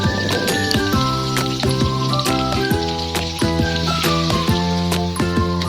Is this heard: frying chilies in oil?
yes